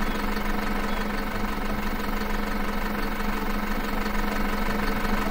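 A garden tractor engine running in the farming game Farm Manager 2018, a constant droning, slightly knocking idle hum that stays loud and even throughout without any talk.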